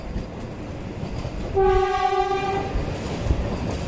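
The horn of the AC Double Decker Express running between Bengaluru and Chennai blasts once, loud and close, for over a second. It comes over the steady rumble of the moving train.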